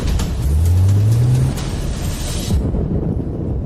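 A car pulls away, its engine rising in a brief revving tone before settling into a steady, loud drive-off rumble that drops away near the end, with no voices.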